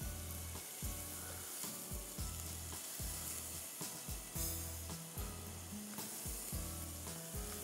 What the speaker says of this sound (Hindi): अच्छी तरह से दोनों को आप फ्राई कर लो, अनियन और गार्लिक को